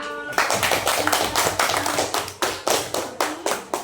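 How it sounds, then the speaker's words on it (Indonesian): A small classroom group claps for a student, loose rhythmic hand claps in bursts of roughly even beats, fairly close and alone without talk. "kasih tepuk tangan dulu buat Okta"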